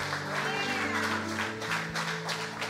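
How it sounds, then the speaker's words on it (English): A church congregation claps in a steady, continuous wash of applause, moderately loud, with sustained music tones underneath and a voice speaking over it. "Come on, give them a hand clap as they come forward."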